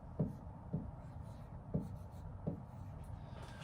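A marker taps and scrapes across a board while numbers are written, four distinct short strokes spaced irregularly, close and fairly quiet over a soft room background, with no talking.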